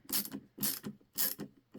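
A Milwaukee ratcheting screwdriver backing out a screw by hand, close, crisp repeated ratchet clicks in steady bursts about every half second.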